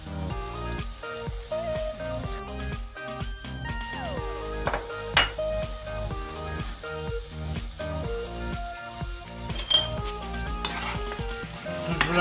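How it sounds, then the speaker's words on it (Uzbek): Horse meat sizzles and fries in a pot with salt as it is stirred, a steady close crackle with occasional scrapes and clinks, accompanied throughout by background music. "Tuz bilan ham yaxshilab aralashtiramiz."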